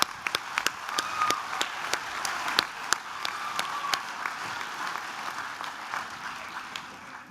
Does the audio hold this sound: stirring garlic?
no